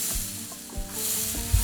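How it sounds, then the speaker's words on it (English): A vegan knafeh mixture is stirred in a pan over low heat, giving a steady close sizzle with soft scraping strokes and a thump near the end, and no voices. "just keep stirring it until it becomes one clump"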